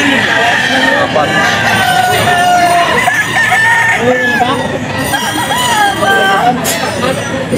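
Roosters crow loudly and repeatedly among clucking chickens, with people talking throughout in a busy outdoor setting.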